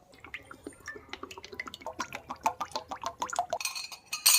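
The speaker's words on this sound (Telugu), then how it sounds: "ఇప్పుడు మనం బాండీలో ఆయిల్ వేసి" A metal wok (kadai) with oil is set onto a stove, giving a run of close metallic clinks and clatters that builds up, ending in a brighter, louder clank with no talk.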